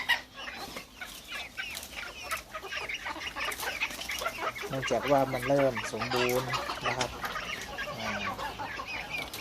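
Backyard bantam chickens, hens kept with a bantam rooster, cluck and cackle in a run of rising, repeated calls near at hand, while someone talks over them.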